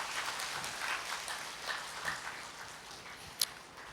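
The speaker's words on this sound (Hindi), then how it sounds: "एक बार फिर ताली बजाएं" An audience at a Hindi spiritual talk claps together in a soft, steady patter, fairly distant and low in level, with one sharper clap standing out near the end.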